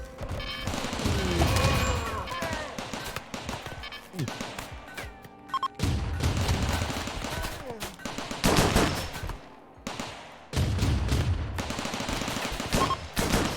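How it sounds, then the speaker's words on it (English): Dense bursts of rapid automatic gunfire and explosions from the game Rimworld, loud and continuous with brief lulls, with voices talking underneath. "I'm moving toward the gunfire."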